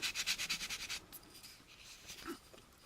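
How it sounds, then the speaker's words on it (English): A sandpaper block rubs back and forth over a plastic model kit part in quick, rhythmic strokes, close and quiet, then the scraping slows and thins out. "going down this way with our sandpaper block. Remember to cross sand."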